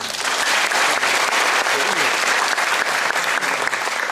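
Dense, sustained applause from a large audience at a Korean agricultural policy forum's local government leaders' talk concert, steady and loud throughout with no gaps.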